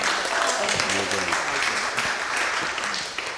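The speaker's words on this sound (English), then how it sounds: "A round of applause." Audience applause at a devotional gathering in a Los Angeles temple, a dense wash of clapping filling the whole stretch at steady volume, with some talk and voices mixed in beneath it.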